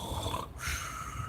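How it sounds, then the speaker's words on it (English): A single soft, rasping snore, a low throaty breath with a fluttery rattle, close and quiet. "She's sawing logs. She's snoring."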